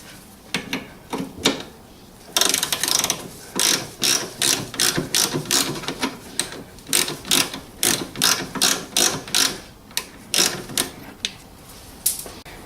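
A hand ratchet loosens a 16 mm nut on the suspension of a 1992 BMW 325i E36, giving rapid repeated clicking strokes in a steady rhythm with brief pauses, close up and clear.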